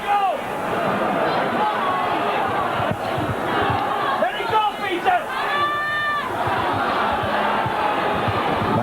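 Rugby league crowd at a Salford versus Dewsbury match roars and jeers in protest, a broad stadium din with shouts and whistles rising mid-way, heard under a commentator talking.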